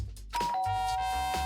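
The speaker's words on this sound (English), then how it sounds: "I pressed the doorbell." A doorbell in the Danganronpa game rings out with a clear, sustained electronic chime tone over a low background hum, close and alone.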